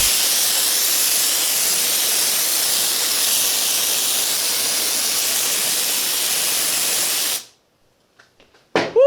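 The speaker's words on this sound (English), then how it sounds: "I'm going to pick up this bottle of air and I am going to spray the back of this paper" Compressed air sprayed from a can onto the back of a sheet of paper: a loud, steady hiss running about seven seconds, then cutting off abruptly into near silence with a few faint clicks.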